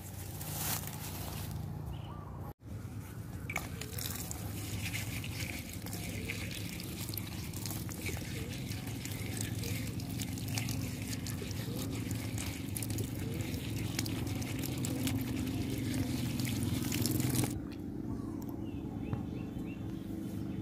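Clean water runs and trickles steadily as freshly picked stems of a roadside weed are rinsed, a continuous close splashing flow with faint bird calls in the background before it cuts off near the end.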